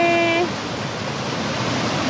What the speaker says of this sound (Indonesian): Tuh, sungainya banjir. Banjir sekali.